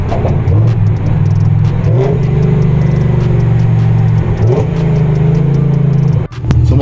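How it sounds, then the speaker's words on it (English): Close, loud engine rumble from a BMW E60 M5 with Evolve headers on a track day, revving and blipping through repeated downshifts, with brief dips and surges before a sudden cut near the end. "Listen to these downshifts."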